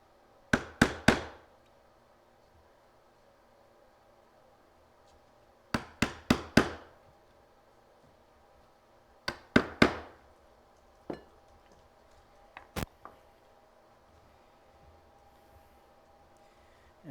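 Hand chisel and mallet cutting into the wood of a bread board, sharp knocking strikes in short clusters of three or four, then a few single taps, close by with quiet pauses between.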